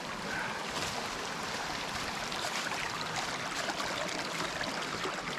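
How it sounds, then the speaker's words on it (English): Small creek running through late-winter woods, a continuous broadband gurgle and rush of flowing water, close and steady with no voices. "Beautiful little running creek of water."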